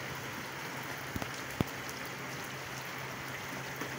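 Heavy rain falls in a steady, dense hiss with no breaks, with a couple of sharper drips or taps standing out briefly.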